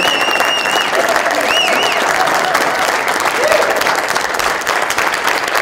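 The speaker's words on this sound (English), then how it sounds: "Please give them a round of applause." At a cannabis legalization closing plenary session in Minnesota, an audience gives steady, loud applause for board members, a continuous wash of clapping with faint tonal sounds drifting above it.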